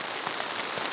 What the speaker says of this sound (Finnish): Ja nyt se sade rupeaa sitten kiihtymään